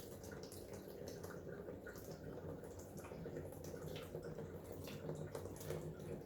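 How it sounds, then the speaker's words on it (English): Water running through a manifold fills a phosphate reactor loaded with Rowaphos on a marine fish tank, a steady continuous rush and trickle at moderate level with no talking. "we turn on the manifold now and let this run through. Hopefully you can see the water starting to fill in the reactor."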